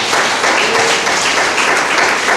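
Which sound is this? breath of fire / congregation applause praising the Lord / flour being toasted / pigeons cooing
congregation applause praising the Lord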